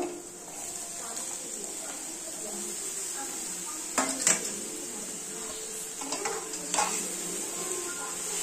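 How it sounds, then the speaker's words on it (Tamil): Ridge gourd and onions are stirred in a pan as the spoon makes a few louder scrapes against the metal around the middle and near the end. A steady, moderate background hiss continues throughout. "போட்டு நல்லா ஒரு கிண்டு நல்லா கிண்டிக்கலாங்க."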